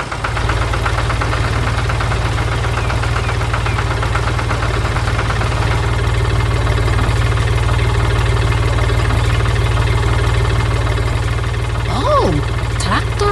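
A blue Ford tractor engine runs steadily with a loud, continuous low rumble and knocking vibration throughout, close by, with a faint voice briefly near the end.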